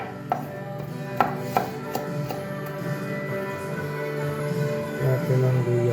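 A knife chops garlic on a cutting board for squid adobo, with several sharp, distinct close taps scattered among steady kitchen background noise and no talking.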